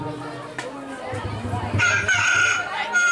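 A rooster crows in a loud, drawn-out call partway through, heard over a noisy backdrop of people talking and chattering at a Bengali stage performance.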